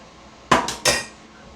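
A spoon scooping peanut butter into a bowl: three quick close knocks of the spoon against the bowl rim, with quiet in between.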